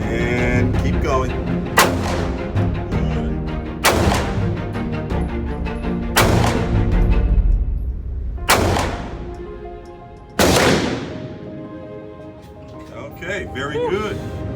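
Handgun shots at a concealed carry shooting range, about six sharp loud reports spaced a couple of seconds apart, with ringing decay and an instructor talking between them.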